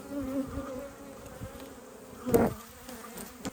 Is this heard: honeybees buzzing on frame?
yes